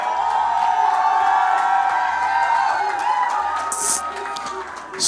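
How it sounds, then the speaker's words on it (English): An audience of entrepreneurs at a leadership summit cheers and whoops for several seconds, a loud, dense crowd roar that swells and fades slightly toward the end. "If you're an entrepreneur, cheer your guy."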